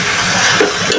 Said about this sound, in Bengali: এখন মাংসটাও আমি একটু নেড়ে চেড়ে একটু ভালো করে কষায় নেব।